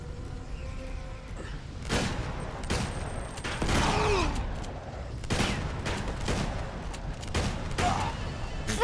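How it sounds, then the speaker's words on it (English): Shotgun blasts and other gunfire ring out in a firefight in Uncharted 2, with sharp separate shots over continuous combat noise, some louder and closer than others. "I guess it is a shotgun"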